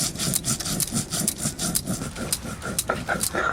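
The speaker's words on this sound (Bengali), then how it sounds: "শুকনো লঙ্কা, ধনে, জিরে, আদা, রসুন একসঙ্গে বেটে নিচ্ছি।" Dried chilli, coriander, cumin, ginger and garlic are ground together on a stone, making a repeated rough scraping and grinding, close and rhythmic, with quick back-and-forth strokes.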